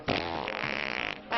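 A single drawn-out fart of a little over a second, close and fairly loud, with a buzzing, sputtering texture and a brief pause before a short final puff.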